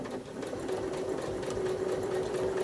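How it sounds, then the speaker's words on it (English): A sewing machine stitches down a quilt block, its motor running in a steady, even hum with a rapid needle patter throughout, close and unbroken. "I'm going to start out stitching down"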